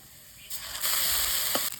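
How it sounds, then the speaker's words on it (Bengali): Black cumin, onion and ground spice paste dropped into hot oil for a bitter gourd dish, bursting into a sudden loud hiss and sizzle that holds steady to the end. "কালো জিরে, পেঁয়াজ, বেটে রাখা মশলাটা দিয়ে দেবো"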